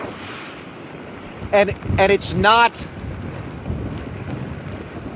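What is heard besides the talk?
wind-driven waves crashing over lake seawall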